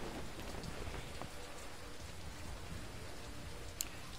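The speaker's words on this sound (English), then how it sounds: "Really should stop it raining" Steady rain falling in the video game Artifact Assault, a constant even hiss of drops with no letup, one brief brighter tick near the end and no talk.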